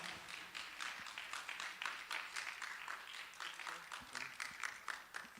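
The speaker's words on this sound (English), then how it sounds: "give him a round of applause" An audience at a school event applauds steadily, a soft, distant patter of many hands clapping that holds evenly for several seconds.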